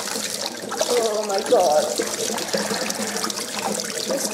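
Tap water runs over a freshly burned arm in a home kitchen, a steady trickling splash heard close up under a distressed voice speaking.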